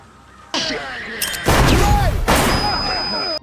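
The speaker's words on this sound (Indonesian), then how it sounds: "Ledakan kecil itu membuat pasukan kehilangan fokus." A small explosion bursts in a military action film, a sudden loud blast followed by crashing debris and ringing, amid dramatic movie sound effects.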